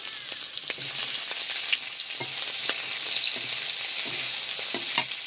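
Chopped onion frying in hot oil with dry chilli and whole cumin gives a bright, dense hiss and crackle, close and steady, with occasional spatula scrapes and no voices.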